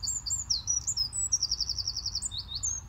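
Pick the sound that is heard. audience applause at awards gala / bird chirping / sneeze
bird chirping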